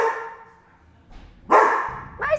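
Marcy, a dog cared for by the SPCA in British Columbia, gives a few short, loud barks with gaps between them.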